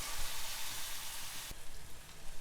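Firm, medium-sized red tomatoes fry in a pan for a chutney, giving a steady bright sizzle and crackle that continues close up with no voices.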